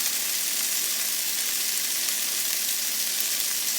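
Turkey burgers fry in a pan with a loud, unbroken sizzle that holds evenly from start to finish, close up and with no voices.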